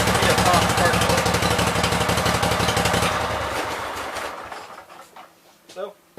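A two-cylinder Cub Cadet garden tractor engine, fitted with a faulty coil, runs with a steady, fast clattering putter up close. It then fades and dies away, with someone talking over the engine.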